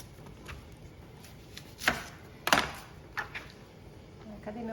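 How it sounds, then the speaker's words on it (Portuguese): A knife chops an onion for a simple pot-roasted chicken, with a few separate thuds on a cutting board spaced irregularly over a quiet kitchen background, and faint talk nearby. "Cortar uma cebola."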